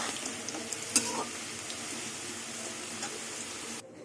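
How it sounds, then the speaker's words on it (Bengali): Pieces of green jackfruit sizzle quietly in hot oil in a home kitchen pan, a steady soft crackle with one sharp utensil clink early on, cutting off abruptly at the end. "এঁচুরগুলো আমি একদম লাল লাল করে ভেজে নিয়েছি তেলের মধ্যে"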